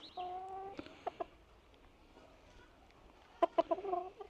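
Chickens in a coop at a folk museum in the North York Moors, giving a few faint, short clucks and calls spread across a quiet background, with a brief cluster of sharper calls near the end.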